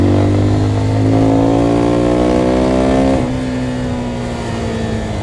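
A stock single-cylinder Zontes Phantom S 250 motorcycle engine runs close by with a throbbing rumble, rising in pitch as it revs, then dropping back to a steady idle.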